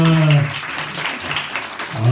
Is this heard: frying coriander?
no